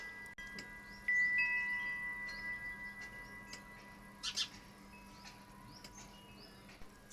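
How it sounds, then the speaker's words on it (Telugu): Small birds, likely sparrows, give faint, scattered chirps and a brief sharper call against a quiet outdoor background with soft insect-like hum. "ఇక్కడ పిట్ట నాతోటే ముచ్చట పెడుతుంది"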